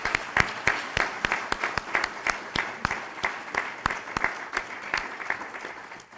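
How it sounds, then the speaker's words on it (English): Audience applause for public officials at a city State of the City event, with broadband clapping carried under loud, sharp individual claps that ring out near and irregular throughout. "now we can do the applause for all of our public officials"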